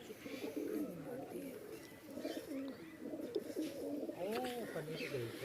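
Pigeons of a Wagah rooftop loft coo steadily and close by, with overlapping rolling calls filling the whole stretch and a few brighter chirps on top; a voice is heard faintly in the background.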